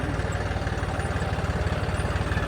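Engines idle steadily close by, a low, pulsing rumble throbbing at an even rhythm with no voices.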